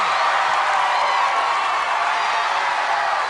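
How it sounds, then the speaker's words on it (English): A crowd cheers and whoops continuously at an obstacle course competition, a dense roar of voices sustained without a break as a competitor finishes the course. "This crowd is going nuts."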